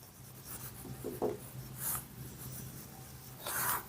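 A pen writes steadily on paper during a maths lesson, with scratchy strokes in short bursts, close up and fairly quiet.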